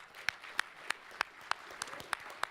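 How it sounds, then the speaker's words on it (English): Audience applause for a sound crew at a CES gadget event: a short, fairly faint run of sparse, evenly spaced claps, about eight in a row, like a few people clapping. "So big hand for them."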